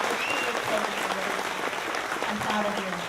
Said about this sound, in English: So if you guys could give him a round of applause.